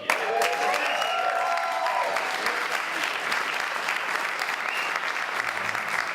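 A college audience gives sustained, even applause at a Champlain College elevator pitch competition, many hands clapping steadily at moderate distance throughout, with faint voices underneath.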